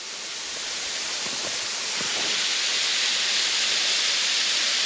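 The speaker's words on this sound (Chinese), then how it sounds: "泰安瀑布" Taian Waterfall pours down nearby along a forested mountain walking trail, a dense, unbroken hiss and roar that grows slightly louder as it goes, with faint low knocks early on.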